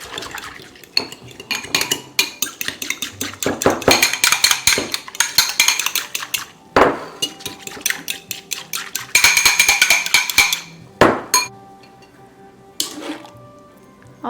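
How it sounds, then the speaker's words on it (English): A metal whisk clatters briskly against the sides of a pot while ingredients for a homemade cream of chicken soup are mixed, with busy bursts of scraping and clinking, brief pauses, and a few isolated taps near the end. "I'm just going to whisk this together."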